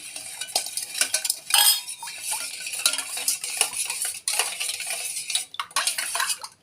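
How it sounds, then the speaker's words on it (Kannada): A spoon stirring tamarind juice in a container, producing busy, close clinking and swishing with short pauses between bursts of mixing. "ನಾನು ಮಿಕ್ಸ್ ಮಾಡ್ತಾ ಇದ್ದೇನೆ"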